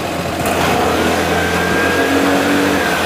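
A Vespa Primavera 150 automatic scooter engine runs close by with a steady, continuous drone and a slight rise in pitch as the throttle is opened, with no voices present.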